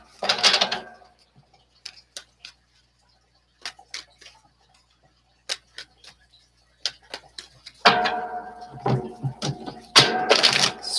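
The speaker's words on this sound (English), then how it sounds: "boring with my shuffling." Tarot cards being shuffled by hand close up, with brisk riffling bursts at the start and end and scattered soft taps and flicks of the deck in between.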